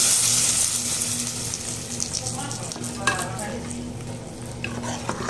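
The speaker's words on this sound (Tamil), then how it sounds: "இதில் நம்ம இந்த தாளி போட்டுக்கலாம்." Tempering poured into boiling moong dal sambar, a loud hiss at first that fades into a bubbling simmer with spoon clinks and stirring scrapes against the pot.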